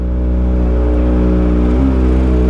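A 2023 Kawasaki ZX25R SE motorcycle with a new loud aftermarket exhaust revs hard and steadily at close range, a dense high-pitched engine roar with a brief pitch shift near the end and no talking.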